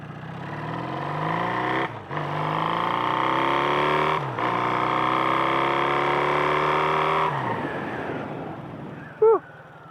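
A Kawasaki KZ440 single-carb motorcycle engine on a ride, revving up through the gears with brief drops at each shift, then easing off into wind noise, heard up close.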